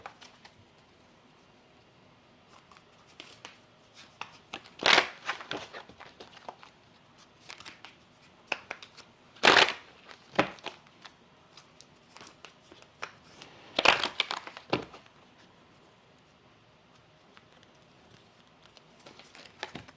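A deck of cards being shuffled: three louder riffling bursts spaced several seconds apart amid softer, sparse card handling and rustling, close and quiet, no talking.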